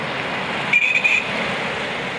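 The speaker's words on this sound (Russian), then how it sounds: "На улице Гагарина громкий гул моторов и запах топлива." Retro cars on a motor rally along a city street, a steady broadband engine rumble and roar with a brief louder swell in the middle.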